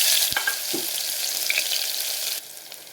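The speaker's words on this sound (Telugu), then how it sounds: "జీలకర్ర, ఆవాలు వేగిన తర్వాత ముందుగా కట్ చేసుకుని ఉల్లిపాయలు యాడ్ చేయండి." Chopped onions hit hot oil with cumin and mustard seeds, a dense crackling sizzle with a few pops and a stirring scrape, easing slightly near the end; no speech.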